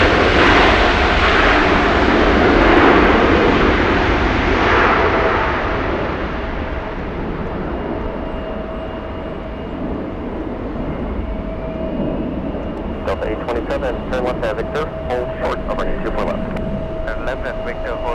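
A jet airliner roars past at LAX, loud at first and then fading to a steady distant rumble, with people talking over the engine noise.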